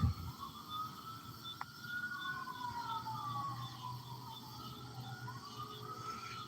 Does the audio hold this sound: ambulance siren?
yes